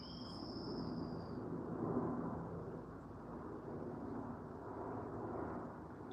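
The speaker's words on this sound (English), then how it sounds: "And an helicopter is going to fly above Eaglet." A helicopter flying overhead in smoky outdoor air near an eagle nest, heard as a faint, steady distant rotor rumble with a low drone throughout and a brief high whine near the start.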